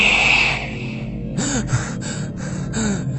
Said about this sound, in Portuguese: Acordei às 2 da manhã com minha respiração ofegante